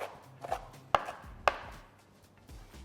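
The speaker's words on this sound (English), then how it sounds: "I'm gonna go ahead and start trimming these and cutting everything up." A knife chops fresh mint, parsley and dill on a cutting board for spanakopita, with a few sharp, close strikes, two of them especially crisp, spaced irregularly over quiet background.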